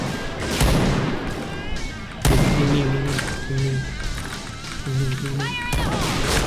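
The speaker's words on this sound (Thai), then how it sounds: "นี่นะครับขอยิงนะครับ" Sniper shots from an XM2010 rifle in the shooter game Point Blank, two loud sharp reports a few seconds apart, mixed with game effects and talk.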